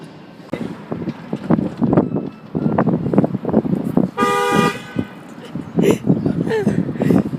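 A car horn gives one loud, sustained honk in the middle, heard close by from a car with wind noise, while several people talk and laugh excitedly before and after it.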